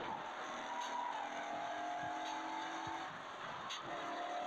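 A racing car engine in an Android street-racing game, a steady high-revving drone with pitch shifts, faint tire squeals and brief passing whooshes, running continuously at low volume.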